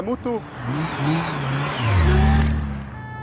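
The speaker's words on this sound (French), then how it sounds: "une Ducati Mostro blanche, une moto blanche, 185, 190 km/h" A white Ducati Monster motorcycle speeds past at around 185–190 km/h, its engine note rising and then dropping as it goes by, with voices talking over it.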